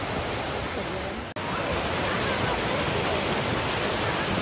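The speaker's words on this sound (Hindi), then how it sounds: "That's the waterfall." Waterfall near Pulga village in Himachal Pradesh roaring as a loud, steady broadband rush that drops out for an instant, then resumes unbroken.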